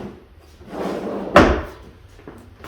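Shallow storage drawer, about 5 inches deep and 36 inches long, in a Ford Transit Connect camper van, sliding with a soft rumble before one sharp knock as it shuts, with a fainter tap afterward.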